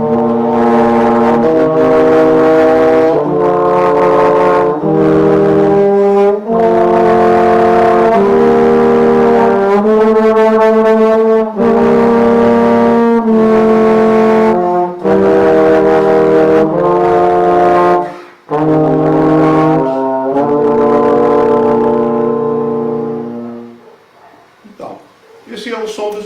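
Brass lines play a scale in thirds on trombone within a symphonic orchestra teaching setting. The notes are sustained and layered and move in steady, even steps for about twenty seconds, loud and close, then fade into brief scattered sounds.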